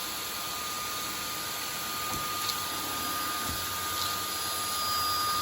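A Samsung Jet 90 cordless stick vacuum runs with a steady high whine and airy rush as it works over a pile of jelly beans, with faint knocks of candy being moved around.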